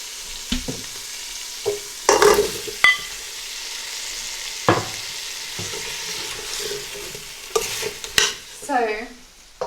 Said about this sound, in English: my potatoes have been frying together with the onions and the spices